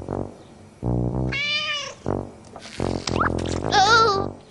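A cartoon cat meows twice in high, drawn-out cries from a Turkish-dubbed Caillou episode, with a character's voice sounding between the meows.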